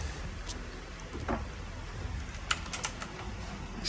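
Computer keyboard keys and a mouse click in scattered bursts of light taps at a desk, close and fairly quiet over a low background hum.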